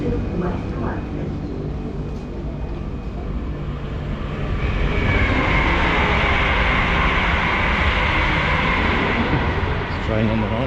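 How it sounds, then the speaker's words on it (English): A London Underground Central line train to West Ruislip rumbles and rattles along the track, growing louder and rushing after a few seconds, with people talking over the noise. "This is a central line train to West Ruislip."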